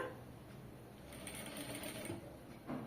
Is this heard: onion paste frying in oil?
no